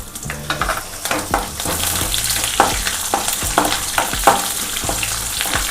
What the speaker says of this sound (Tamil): பச்சை மிளகாய் நல்லா பொரியட்டும் பொரிஞ்சு மேலே அடிக்குங்க